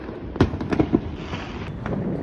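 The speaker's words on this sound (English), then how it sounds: "We're gonna go ahead and blow some fireworks." Fireworks set off outdoors, several sharp close bangs and crackles in quick succession followed by a fading rumble, no talking.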